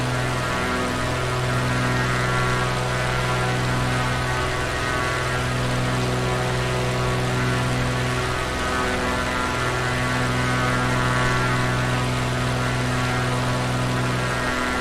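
A propeller aircraft in a flight simulator drones steadily at cruise with the prop set near 2500 RPM and full power, a loud, constant engine hum with slow pulsing beats and no talking.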